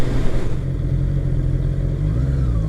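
A Honda CBR650R motorcycle engine drones steadily while riding, a close, continuous mid-pitched hum with wind rush and faint clatter, no voices over it.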